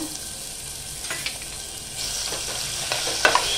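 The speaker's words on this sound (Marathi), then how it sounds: "आपण आलं लसूण चांगलं परतून घ्यायचं आहे तेलामध्ये" Ginger garlic paste frying in hot oil in a pan with whole spices, a close steady sizzle with spatula stirring and scraping, growing slightly louder midway.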